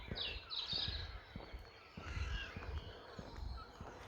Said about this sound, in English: So you got like seagulls and stuff flying over.